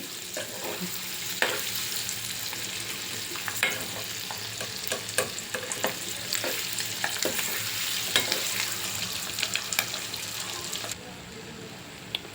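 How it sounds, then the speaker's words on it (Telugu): Halved boiled eggs fry in a pan until golden, a soft continuous sizzle of hot oil broken by scattered scraping stirs and small pops at moderate distance, with no talking. "ఈ ఎగ్స్ అన్నీ గోల్డెన్ కలర్లో వచ్చేటట్టు వేయించుకోవాలండి"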